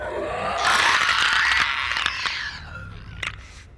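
A rasping, guttural clicker creature noise from The Last of Us, with clicking and croaking textures, loud and continuous for a few seconds before tapering off, with a few sharp clicks near the end.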